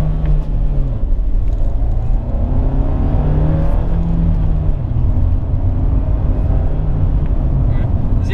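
A 2017 Fiat 124 Spider's 1.4-liter engine with a 6-speed manual revs and accelerates, its steady droning rumble rising in pitch as it pulls through the gears, loud and close throughout.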